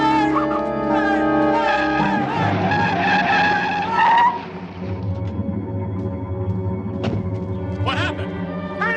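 Tires squeal as a car skids hard in a TV drama scene, a loud, sustained screech over engine roar, then it fades to a lower rumble with brief talk.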